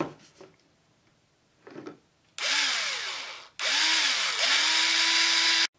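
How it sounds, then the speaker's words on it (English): A power drill boring holes in bone for a bone chandelier, two loud whining bursts a few seconds long, with the motor pitch rising as it spins up and a couple of quiet knocks beforehand. "We're going to have to drill a hole"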